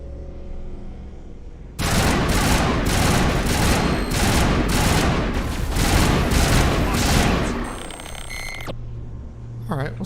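Rapid bursts of automatic gunfire from a weapon in the Mass Effect video game, loud and dense for several seconds, then tailing off into quieter electronic game sounds and beeps.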